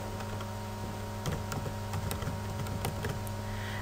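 Keys clatter on a computer keyboard while a label is entered into a spreadsheet cell, a short run of light, close taps over a steady low hum, with no one talking.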